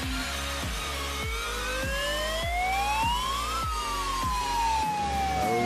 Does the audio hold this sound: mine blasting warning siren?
yes